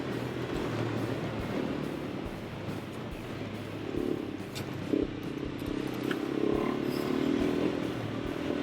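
A dual sport motorcycle rides steadily over rough rocky terrain, its engine drone running continuously with scattered clatters and knocks from the rocks, fairly loud and close throughout.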